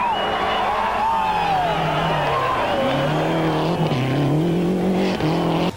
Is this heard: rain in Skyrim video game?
no